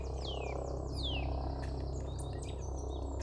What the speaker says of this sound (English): They're beautiful little birds, nuthatches.